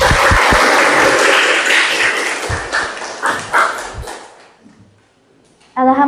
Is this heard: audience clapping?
yes